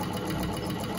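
An old Gritzner sewing machine stitches steadily, its dense mechanical whirr running continuously at a close, even level throughout.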